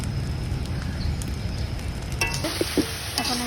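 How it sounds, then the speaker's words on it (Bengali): Curry is sautéed in a pot on a clay stove, giving a close, low crackling rumble of frying with a few brief clinks and scrapes toward the end. "এখন কষাই"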